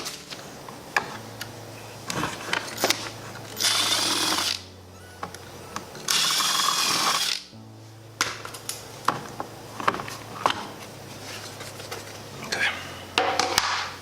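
A power drill bores holes for a front license plate bracket delete using a bit larger than 3/16 inch, in two sustained whirring bursts separated by clicks, taps and handling noise.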